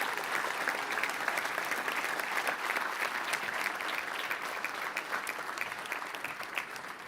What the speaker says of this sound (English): I think another round of applause is in order.